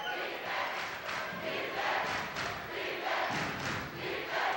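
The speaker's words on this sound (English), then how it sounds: "Boy, this crowd is pumped, John." A pumped-up high school basketball crowd at a North Salem versus Crescent Valley game roars and cheers in a loud, continuous wash of voices, with shouts and thuds rising and falling throughout.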